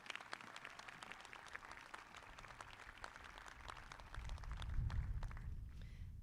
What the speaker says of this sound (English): Let's have another round of applause for all of our award winners